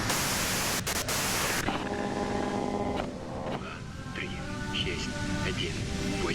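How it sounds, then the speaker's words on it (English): A loud, harsh wash of white-noise static fills a scene in the Disco Elysium video game, then cuts out abruptly and leaves quieter rumbling and a faint voice-like murmur beneath. "you can do it through the white noise"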